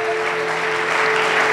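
A church congregation claps together during a sermon, a dense steady burst of applause with faint background tones, brief and fairly loud.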